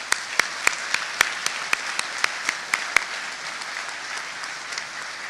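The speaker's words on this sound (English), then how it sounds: "a big round of applause for General Cavoli" Applause at a military change-of-command ceremony for a general: a steady wash of clapping with a series of sharp, evenly spaced louder claps that stop after about three seconds while the softer clapping fades.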